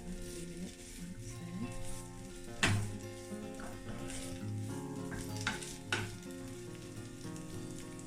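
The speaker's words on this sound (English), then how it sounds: "So now it's been frying for 5 minutes." Chicken sizzles steadily in hot oil in a pan, a constant crackling hiss broken by a few sharp clinks and scrapes of stirring.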